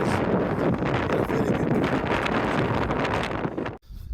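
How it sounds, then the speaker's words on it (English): Strong wind roars across a Scottish mountainside, a loud, continuous buffeting gust that hammers the microphone without letup before cutting off abruptly near the end. "So I'm hoping you can hear me over the wind here"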